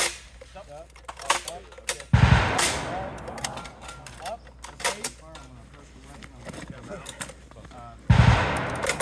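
An Army MK19 grenade launcher fires two heavy, thumping bursts several seconds apart at a range, with voices talking in the quieter gap between them.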